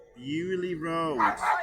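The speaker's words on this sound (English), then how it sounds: "Sorry about the dog in the background though." A dog barks a couple of times in the background near the end, under and after someone speaking.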